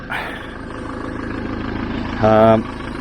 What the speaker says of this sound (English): I've just started the engine up